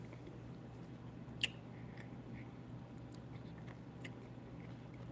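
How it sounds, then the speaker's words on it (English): Someone chews nuts close to the microphone, with faint, soft crunches and one sharper click over a quiet, humming room. "I'm chewing some nuts."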